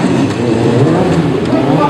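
A custom motorcycle engine revs hard in first gear during circle wheelies at a motorcycle show, a loud, steady, close roar lasting the whole two seconds.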